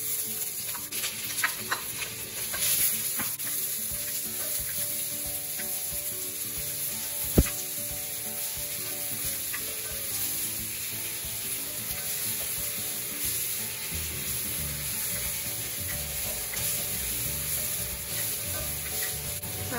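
Onion fries in hot oil in a pan for chili con carne, a continuous close sizzle with occasional stirring scrapes and a single sharp knock partway through, no voices.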